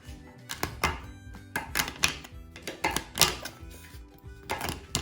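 A knife chops a block of dark chocolate into chunks on a board, a rapid run of sharp, close knocks and cracks in an uneven rhythm.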